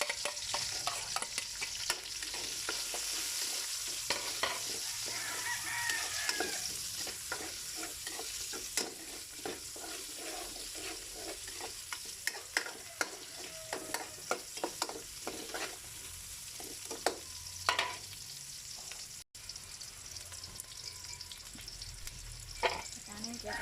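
Onions sizzle in a hot pan while being stirred for a Kapampangan pork and tomato dish with lima beans, a continuous frying hiss broken by frequent scraping and clinking of the utensil against the pan.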